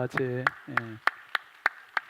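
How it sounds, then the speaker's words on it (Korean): A church congregation claps together in a steady, even rhythm of single sharp claps, fairly soft and a little distant, while someone speaks over the opening beats. "우리 박수로 격려하겠습니다"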